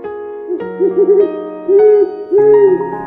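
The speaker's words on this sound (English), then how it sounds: "it's Polly, our owl" A pet owl hoots repeatedly, loud and close, in a series of tonal calls with short gaps between them, heard on its own with no talking.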